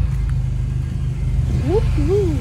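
A Honda Civic EK9's engine drones at a steady, loud, low pitch during a night ride, with a couple of brief rising voice-like tones near the end.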